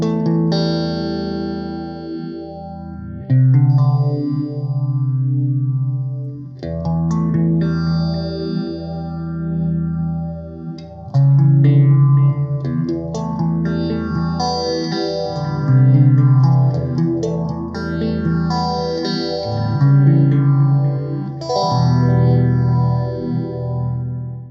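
An electric guitar played through a Line 6 Spider V amp rings out chords and notes with distortion, chorus and echo effects, sustained and loud with no talking.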